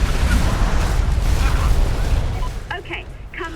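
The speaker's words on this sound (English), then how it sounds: "The bomb fell, the gate blew, it went boom, and there was no static." A satellite-guided bomb blasts open a gate in Mercenaries 2: World in Flames, a loud, deep rumbling explosion that rolls on for a couple of seconds before a voice begins speaking.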